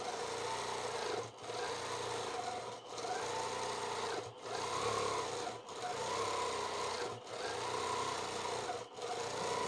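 A sewing machine runs steadily for freehand quilting of arcs on a quilt block, in a series of even, whirring bursts about every one and a half seconds with short pauses between, close and clear.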